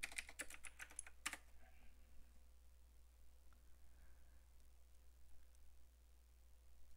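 Rapid keystrokes on a computer keyboard as a Fortnite date search is typed, a close, crisp burst of clicks lasting about a second before the room falls nearly quiet with faint hum.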